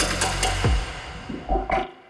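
A punchy future-bass-style stomp kick drum hits with a deep, pitch-dropping thump, followed by a few shorter layered percussive hits before cutting off abruptly.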